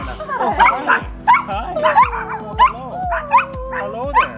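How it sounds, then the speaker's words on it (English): Several small Chihuahuas on a property in Costa Rica bark and yip in quick repeated bursts close by, with whimpering between, while people greet them over the noise. "most times they have about 12 to 14 Chihuahuas on this property"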